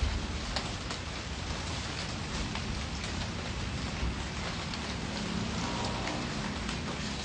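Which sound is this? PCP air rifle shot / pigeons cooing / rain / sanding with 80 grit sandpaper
rain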